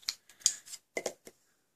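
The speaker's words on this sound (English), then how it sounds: "And I'm gonna do it with scissors." Scissors snipping card stock, a quick series of short, crisp cuts at close range, arriving in irregular bursts with small pauses between them.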